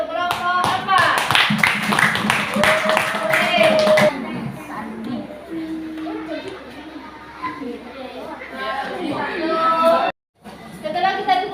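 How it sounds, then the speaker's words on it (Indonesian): Children in a primary school classroom clap for group 4, a brief burst of hand claps near the start, then a teacher and kids keep talking in the room afterward. "Kasih tepuk tangan untuk kelompok 4"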